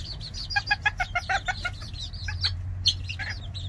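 Several chickens, hens and roosters, cluck in short, quick bursts over a low steady rumble, with a few higher chirps from chicks scattered through.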